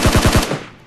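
A rapid burst of four loud, close gunshots in PUBG / Battlegrounds Mobile India, evenly spaced automatic fire with a short echoing tail fading out.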